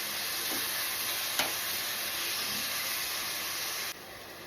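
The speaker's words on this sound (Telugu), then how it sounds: "ఈ టమోటాస్ వేసుకొని బాగా మగ్గిపోవాలి ఈ టమోటాస్ మొత్తము." Chopped tomatoes cook down in a pan for an okra egg curry, a steady close sizzle and hiss with faint stirring scrapes, continuous and even, with no talking.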